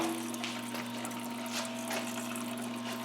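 A parts washer pump runs steadily, pouring water into a kitchen sink through a Loc-Line hose, with a constant hum and continuous splashing flow at close range and no talk.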